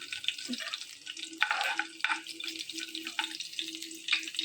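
Garlic cloves frying in hot oil, a moderate sizzle broken by repeated stirring scrapes and light utensil knocks, with a faint tonal hum running underneath.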